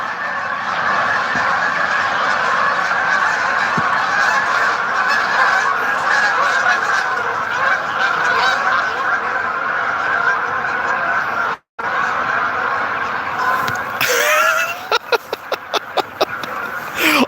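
A flock of birds honks and calls loudly and continuously on a morning walk, the dense chorus close and steady, with a burst of sharper, separate calls near the end.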